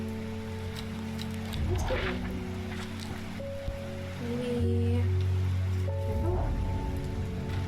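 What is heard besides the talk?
rain in the video game Strange Horticulture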